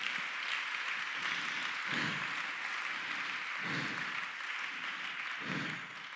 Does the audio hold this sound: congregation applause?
yes